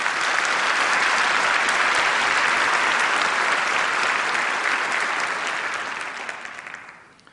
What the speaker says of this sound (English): give those people a round of applause